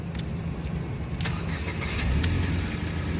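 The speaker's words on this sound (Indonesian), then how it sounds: "Sekarang kita coba saja start mobil ya." A 2011 Ford Fiesta 1.6 Sport automatic car engine cranks and catches, then settles into a steady low idle with a slight rise in revs toward the end, heard close with no talk.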